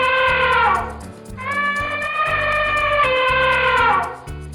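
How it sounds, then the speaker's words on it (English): An elephant trumpets twice in a row, each call a loud, sustained brassy blare with a strong harmonic stack, separated by a brief dip, over a faint repeating musical backing. "Elephant."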